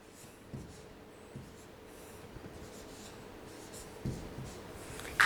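Pen or marker scratches across paper or board as matrix elements are written out by hand in a maths lesson, short soft strokes with quiet pauses and a sharper tap near the end, no speech.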